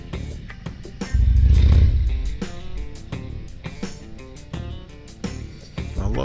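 A 2023 Harley-Davidson Road King Special with the 114 V-twin rumbles close by, swelling with a deep throttle blip early on, then settling into a loping idle punctuated by sharp clicks and knocks.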